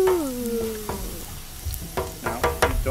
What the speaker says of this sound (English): so we put garlic. It's browning.